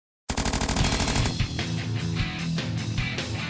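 A gun fires rapid automatic bursts at a gun range, loud dense repeated shots rolling on continuously for several seconds after a brief silence.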